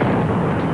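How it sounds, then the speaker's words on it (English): A short, loud, rumbling explosion in a radio news report on blasts at an embassy building, a single heavy boom with no speech over it. "There have just been three explosions which have ripped through the embassy building."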